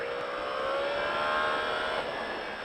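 A Yamaha R1 motorcycle accelerating on a race track, a steady high-pitched engine whine that rises in pitch, with loud wind rush over the whole stretch.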